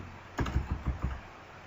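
Several distinct keystrokes on a computer keyboard while working in a BrOffice Calc spreadsheet, a short run of moderately close clicks ending with a press of Enter, over a low steady background hum.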